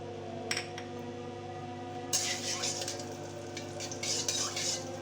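White sesame seeds fry in a spoonful of ghee, giving a soft steady sizzle broken by bright metallic scrapes and clinks of a spoon stirring the pan, close by.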